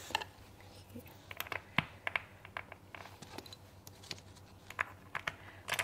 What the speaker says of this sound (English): I'll leave them aside and only install these keycaps and let's do the sound test.